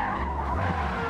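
Tires skid as a GT1 race car's rear end suddenly slides out in Forza Motorsport, a steady screeching slide over a loud engine drone lasting about a second.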